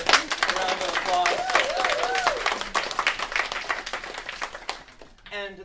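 Audience applause at a teacher training session, a dense, steady burst of many hands clapping for several seconds before tapering off, with a few voices rising over it near the end.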